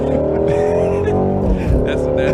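A car engine revs loudly and continuously in played-back audio, its roaring tone rising and falling over a couple of seconds, with talk mixed in.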